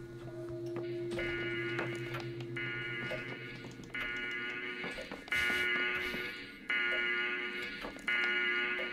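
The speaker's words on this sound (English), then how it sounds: "Okay, so that's the alarm" An electronic alarm in the video game Homebody sounds in repeated pulsing bursts, a buzzing tonal beep switching on and off in a steady rhythm over a low background hum.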